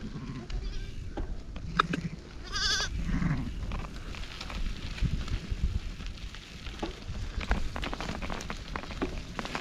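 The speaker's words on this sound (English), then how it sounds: "Bit of a blockage on the road. Pretty big sheep actually." A large sheep stands blocking a rural road on the Moroccan coast, bleating briefly a couple of times amid rustling, patter-like background noise and faint movement sounds, heard from close by.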